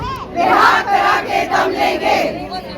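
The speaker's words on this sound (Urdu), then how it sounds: "وہ اس وقت نعرے بازی کر رہی ہیں اور احتجاج ریکارڈ کروا رہی ہیں" Women protesters with a political party's women's wing chant slogans in unison, repeated rhythmic shouted phrases rising and falling in loud bursts from a nearby group.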